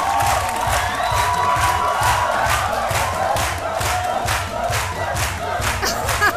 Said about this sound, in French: Je vous invite à applaudir très très fort Touré Aboubacar